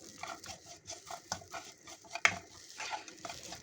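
Bananas frying with curry leaves and coconut powder, stirred with a utensil in a pan; soft scraping and clinks of the spoon against the pan come in a steady rhythm over faint sizzling, with a couple of sharper knocks.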